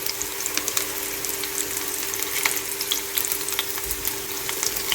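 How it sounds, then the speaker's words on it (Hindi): Potato snack shallow-frying in oil in a pan, a steady fine sizzle with scattered crackles and pops running throughout at moderate level, no voices. "इसको मैं तकरीबन 1 मिनट तक फ्राई करूँगी"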